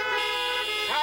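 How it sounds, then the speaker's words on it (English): A car horn at a church gathering blares in one sustained, loud, continuous honk, dipping slightly in pitch near the end. "Can I get a honk on the horn?"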